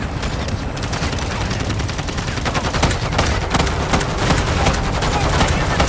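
Rapid bursts of automatic gunfire from a Shadow Siege event match in a first-person shooter, sustained and loud across the whole stretch with sharp repeated shots and occasional louder cracks.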